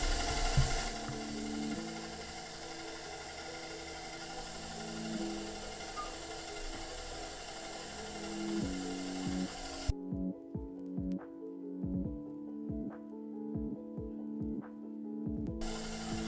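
A stand mixer churns flour at speed 3 with a steady mechanical whir and rhythmic gear clatter, continuous for the whole stretch at moderate, close level.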